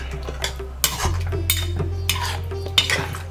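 Cream and coriander are mixed into Kashmiri dum aloo in a pot off the heat, with a spoon scraping and knocking against the metal in short bursts under a low steady hum.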